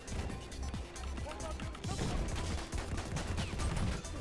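Machine gun fire in Battlefield 1 rattles in rapid, continuous bursts, fairly faint and dense, with crashes mixed in and a voice talking over it.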